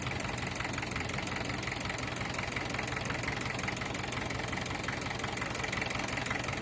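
A tractor engine idles steadily at a farm during a blessing ceremony, a continuous low rumbling throb with a faint knocking pulse, close by and without speech.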